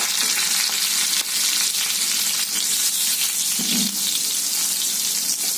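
Asafoetida hitting hot oil for a Malvani-style bitter gourd curry gives a loud, steady, close-up sizzle that runs unbroken throughout with no voices.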